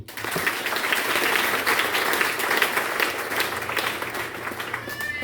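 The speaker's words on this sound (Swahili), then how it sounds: "Piga makofi." A church congregation bursts into loud, sustained hand clapping during a sermon, a dense steady roar of claps lasting throughout with a faint voice or two underneath.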